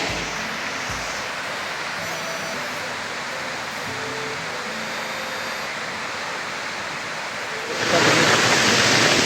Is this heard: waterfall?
yes